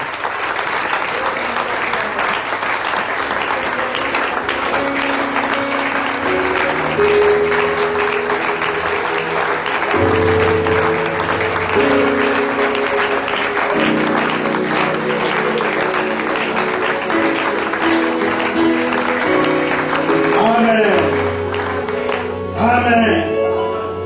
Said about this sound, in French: acclamons très bien la parole de Dieu